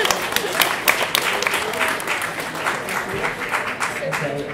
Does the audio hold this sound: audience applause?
yes